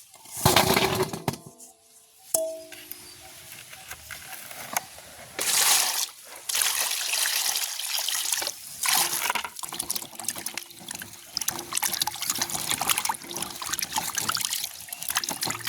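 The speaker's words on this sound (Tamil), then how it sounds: "இப்போ நாங்கள் உரிச்சு வச்சுக்கிற மரவள்ளி கிழங்கு கழுவி எடுப்போம்" Peeled cassava (tapioca) roots are washed by hand in water, with irregular splashing, sloshing and trickling continuing steadily and fairly loud at close range, with no speech.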